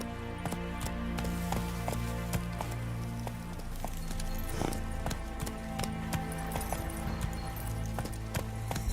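A horse gallops in The Witcher 3 with a steady, rapid clip-clop of hooves on the ground, moderately close and continuous for several seconds over soft ambient background noise.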